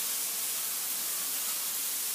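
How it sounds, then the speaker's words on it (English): Diced garlic sweating in a hot pan for a samosa filling gives off a steady, even hiss that holds without a break for the whole stretch, with no voices over it. "Now I'm going to add my diced garlic. And let this sweat, okay?"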